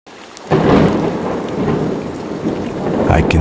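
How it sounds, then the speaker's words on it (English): Heavy rain pours down with a deep rumble of thunder rolling underneath, a dense, steady wash of drops close by. "it's raining!"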